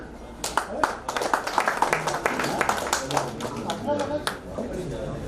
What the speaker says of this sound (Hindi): इस्तकबाल कीजिए भरपूर तालियों में